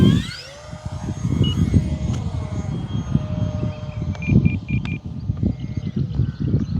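An E-flite F4U-4 Corsair V2 1.2m electric RC plane flies at about half throttle, its motor giving a steady buzzing whine overhead, with wind rumble and handling noise close by and brief electronic beeps.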